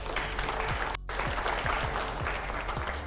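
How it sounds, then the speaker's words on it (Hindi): Studio audience at a televised political interview applauding on cue, loud continuous clapping with a brief cut midway. "जोरदार तालियां बजाइए एक बार।"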